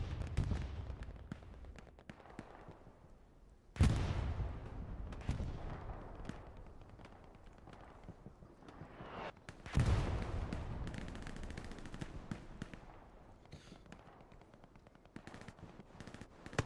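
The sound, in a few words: bombing run in the video game Hell Let Loose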